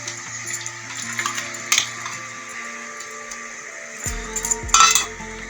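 Soaked lentils tipped into a cooking pot while making sambar, giving clattering metallic clinks and a sudden wet plop near the end over a quiet kitchen background.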